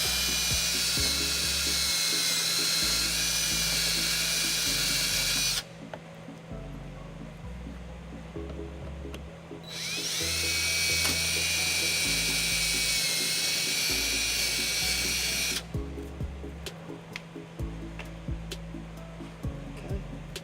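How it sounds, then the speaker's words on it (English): A high-pitched power drill whines steadily in two long bursts, drilling holes through a metal bracket on a 2016 Hyundai Santa Fe, pausing between them, with a low engine-like hum and background noise underneath. "I'm going to take a drill and using the bracket as a template, I go ahead and just drill"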